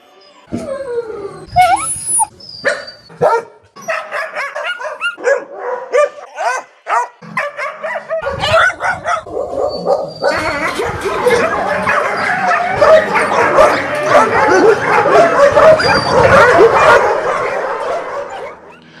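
A pack of dogs barks, yips and whimpers at close range, first in scattered sharp bursts, then in a dense, continuous chorus of overlapping barking.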